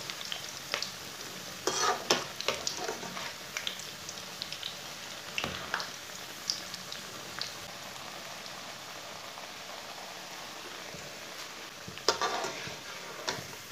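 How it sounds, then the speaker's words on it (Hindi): Onion pakoras fry in a pan over medium heat, giving a steady close sizzle and crackle with scattered sharper pops and occasional stirring sounds, and no talking. "अब इसे उलटा लेंगे, इसे बिल्कुल मीडियम आंच पर पकाना"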